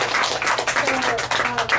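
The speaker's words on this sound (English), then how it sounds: "That was another round of" A short round of audience clapping after a book talk at an evening event, dense and fairly close, lasting only a moment.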